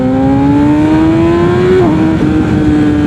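A Yamaha R6 motorcycle engine revs high and loud up close, a sustained whine climbing steadily in pitch before dipping briefly and holding again, with no talking.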